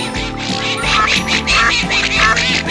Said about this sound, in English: But the ducks weren't very happy about it.